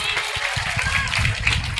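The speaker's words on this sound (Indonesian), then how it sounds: "Tepuk tangan." A small group claps their hands in a quick, uneven patter, with voices talking over the clapping throughout.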